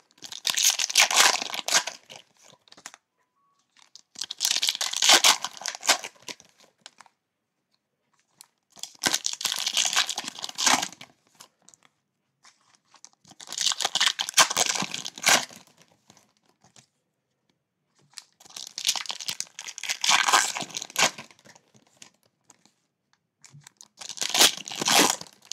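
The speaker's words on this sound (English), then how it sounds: "I'll just open the whole box, and we'll go through the cards." Packs from a box of football trading cards being torn open: six separate bursts of crinkly wrapper tearing and crumpling, each lasting a couple of seconds with short pauses between, close and alone with no talk.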